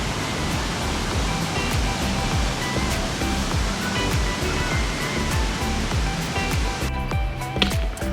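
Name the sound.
Piney Falls waterfall, Tennessee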